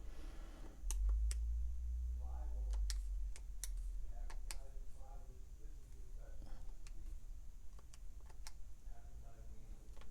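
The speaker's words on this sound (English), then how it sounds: "I'm a little slow with typing these into my calculator." Buttons pressed on a calculator, a string of quick sharp clicks at an irregular pace, close up, over a low background hum and occasional soft talk.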